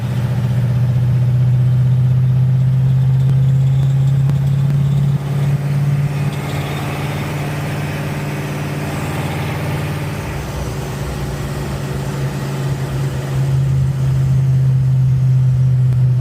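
A 1934 sedan delivery car's engine runs loud and close while driving, a steady low-pitched drone with a rough, throbbing undertone that holds throughout, with no voices over it.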